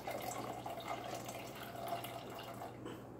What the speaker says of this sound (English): now we are going to pour in our lime juice